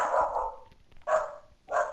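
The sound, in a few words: dog barking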